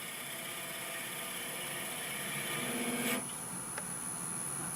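A wood lathe spins at 900 rpm while a 1/4 inch tool cuts a long-stemmed wooden goblet, giving a continuous, fairly quiet scraping hum with a short rougher burst near the end and no voices.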